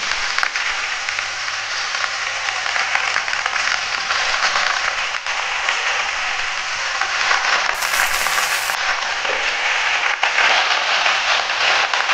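Washed, chopped spinach hits a hot pan for a Bengali spinach curry, setting off a loud, steady, dense sizzle that holds evenly throughout without any talk.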